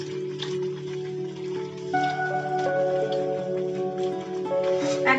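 Shrimp deep-frying in hot oil in a kadai: a steady crackling sizzle with dense popping, close and continuous, with a faint background tone.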